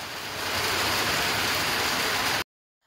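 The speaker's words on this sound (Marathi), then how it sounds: "मुसळधार पाऊस पडायला लागला होता" Heavy rain pouring down in a rural farming area, a dense, loud and continuous hiss that stops abruptly just before the end.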